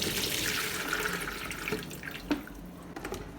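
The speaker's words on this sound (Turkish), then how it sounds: "Şimdi bunu süzeyimize direkt döküyoruz." Olive brine poured from a jar of cured black olives into a strainer, a steady close splashing stream of liquid with a few drips and small splashes toward the end.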